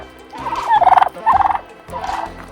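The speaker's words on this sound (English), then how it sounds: "Turkeys are up to their usual antics" Turkeys on a homestead at evening feeding time gobble in several quick, rattling bursts, one overlapping another, loud and close with short pauses between calls.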